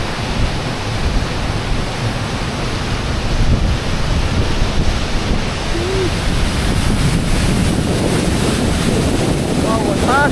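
Pinsal Falls waterfall roars as a dense, steady wash of rushing water mixed with wind buffeting the microphone, continuous and loud throughout.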